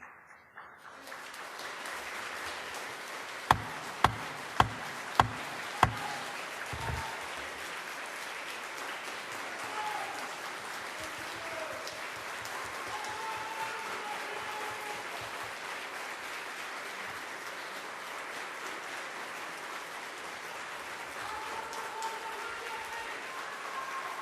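Sustained applause fills the Oklahoma House chamber, a dense steady clatter of many hands with several sharp isolated claps early on, continuing loud and even for over twenty seconds.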